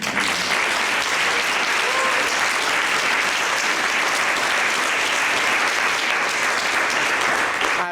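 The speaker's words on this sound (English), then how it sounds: "Please join me in giving them a round of applause" Sustained applause from an audience for library staff at a mayor's budget event, dense and even clapping from many hands, filling the room at steady volume for several seconds.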